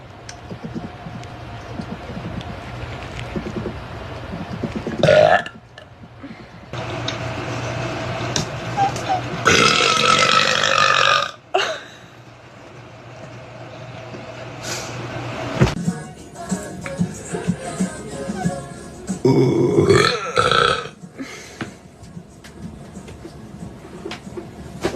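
Loud, drawn-out burps rip out one after another during a TikTok live stream, some long and rumbling, separated by pauses with faint voices and background chatter between them.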